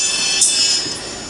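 Treble test signal through the tweeter output of a Pro Euro Tech 2-3 way crossover, a continuous thin high-pitched sizzle that swells briefly then holds steady, moderately loud with no voices.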